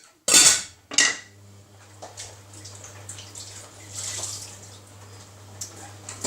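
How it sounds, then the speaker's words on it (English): A metal lid is set onto a frying pan of egg fried rice, making two sharp close clanks in quick succession, then a low steady hum with faint rattles and water-like hiss. "And I'm going to put the lid on."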